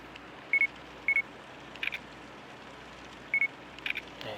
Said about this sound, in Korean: 그리고 셔터음 같은 경우는 방금 들어보셨겠지만은